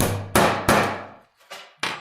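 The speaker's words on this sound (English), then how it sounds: "A good hammer, though, is always great for a little encouragement." Four sharp hammer blows drive pins into a wooden pocket knife, on wood and metal, each ringing out and fading before the next, with a short pause before the last two strikes.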